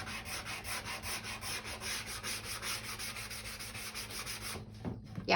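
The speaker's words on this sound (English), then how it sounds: "go back in with my sanding block again and just kind of give it a rough sanding around the edge" Steady back-and-forth sanding strokes rasp against a wooden edge in an even rhythm, close and continuous, stopping near the end with a couple of light knocks.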